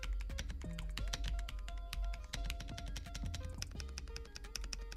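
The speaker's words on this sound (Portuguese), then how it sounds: "Agora fique com o som do teclado." Rapid typing on an Akko 5075S keyboard fitted with Epomaker Jade switches, a close, crisp stream of clacky keystrokes in an uneven rhythm with no voices.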